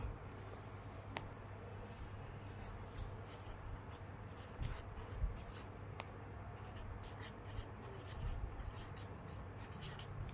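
Numbers being handwritten for a lottery prediction, heard as faint, continuous scratching and scribbling strokes in bursts across several seconds, with soft handling noises and a low background hum.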